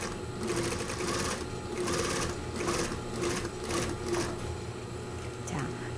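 A sewing machine stitches a shirt hem in rapid bursts, its needle clatter starting and pausing several times up close as someone talks over it.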